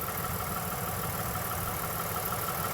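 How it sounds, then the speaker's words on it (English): A car engine with an overheating problem and a chain-driven coolant pump idles with a steady low rumble at an even, moderate level while coolant is added, with no voices over it. "Now engine is running, we're adding coolant to it."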